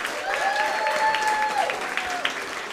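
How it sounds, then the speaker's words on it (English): Live comedy club audience applauding a comedian taking the stage, steady dense clapping with a few whoops and cheers over a sustained whistle-like tone. "put your hands together for Kent Rader"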